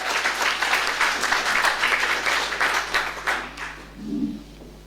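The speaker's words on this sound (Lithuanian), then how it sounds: "Jurga Jasponytė, garsiai reikia, ir su aplodismentais." A crowd at a prize-giving ceremony claps for a third-place winner, steady dense applause for about four seconds that fades out, with a faint voice at the end.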